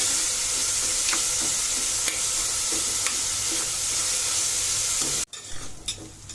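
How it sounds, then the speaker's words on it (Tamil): Onions sauté in a pan under a constant dense sizzle, with occasional stirring scrapes; the frying noise drops abruptly near the end, leaving quieter scattered clicks. "நல்லா கோல்டன் ப்ரௌன் ஆகிற வரைக்கும் இந்த வெங்காயத்தை நல்லா வதக்கணும்."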